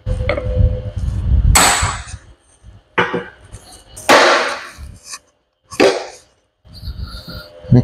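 Metal clanks and scraping knocks come in several separate bursts with quiet gaps between them as the gland is fitted onto a Hyster forklift tilt cylinder during a reseal.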